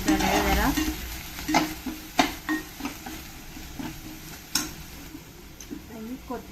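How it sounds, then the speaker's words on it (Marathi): Masala stirred and fried in a pan gives a soft sizzle under repeated scraping and clinking from a spoon, with short knocks against the pan throughout. "हे सगळे मसाल्याला आटायचं आहे. त्याच्यात मिक्स करायचा मसाला जरा."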